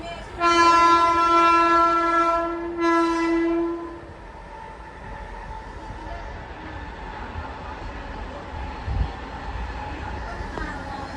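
A train sounds a loud, sustained horn nearby in two blasts, then its rumble continues faintly with background chatter.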